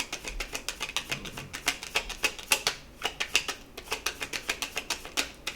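Cards being shuffled or drawn during a tarot reading, a rapid run of crisp papery flicks and snaps close by, dense and rhythmic for several seconds with no talking.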